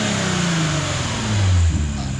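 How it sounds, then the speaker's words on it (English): A supercharged 440 hp Audi S4 revving hard, a loud, close engine note that climbs steadily and peaks near the end of the short burst. "this is the fastest car I've ever recorded on my channel."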